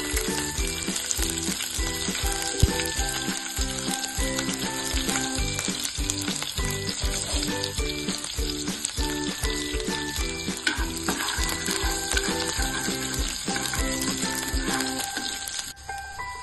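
Green chillies crackle and sizzle in hot tempering oil for kothimbir bhaji, a loud continuous close-up frying hiss with occasional clinks of a utensil against the pan.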